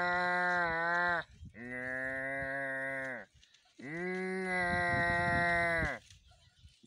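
A voice imitates a cow calf crying: three long, loud, drawn-out bawling moos in a row, each one to two seconds long and separated by short gaps, with no other sound around them.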